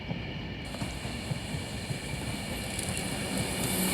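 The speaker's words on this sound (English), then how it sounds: "Being worked by a Class 390 Pendolino." An Avanti West Coast Class 390 Pendolino electric train pulls in at Crewe, a steady broadband rumble and rail hiss that builds slightly toward the end, with a faint high whine above.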